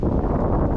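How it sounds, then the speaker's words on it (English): Strong wind buffeting a microphone in the winter mountains, a loud, low, continuous rumble with no pauses over the brief moment. "The wind has been relentless today."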